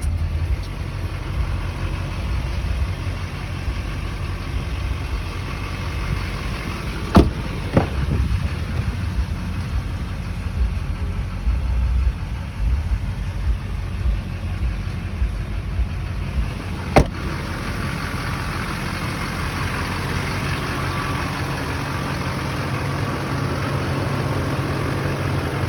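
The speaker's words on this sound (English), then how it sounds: "So this is a 2004 Chevy Silverado 2500 crew cab with the Duramax diesel" A 2004 Chevy Silverado 2500 crew cab with the Duramax diesel engine idling: a steady low rumbling drone throughout, with a couple of brief sharp clicks along the way.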